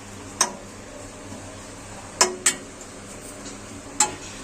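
Grated dry coconut roasting in a pan for gujiya filling, with four sharp metallic clinks of a spoon against the pan spaced irregularly over a faint steady background hiss.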